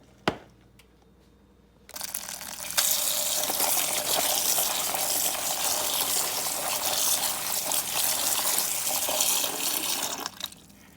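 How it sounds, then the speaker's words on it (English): Running tap water gushes steadily over cranberries being rinsed in a kitchen, a loud continuous splashing stream that starts after a quiet moment and runs for several seconds before cutting off, with no talking. "Now that we've washed our cranberries"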